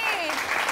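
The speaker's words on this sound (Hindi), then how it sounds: "तालियों से बताएं।" A TV morning-show studio audience claps, a brief burst of steady, dense applause heard close and alone with no talk over it.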